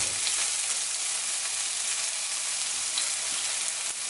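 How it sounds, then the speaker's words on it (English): Onions frying in oil in a pot for a plant-based eggplant lasagna, a continuous close hissing sizzle with no talk. "I have some oil in the pot. I'm going to add some onions."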